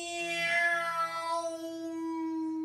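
A human voice imitates a cat's meow with a single drawn-out, tonal call that rises and then settles into a long, steady held note, fairly close and clear.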